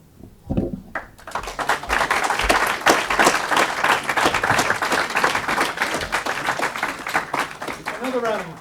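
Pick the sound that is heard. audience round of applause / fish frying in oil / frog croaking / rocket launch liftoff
audience round of applause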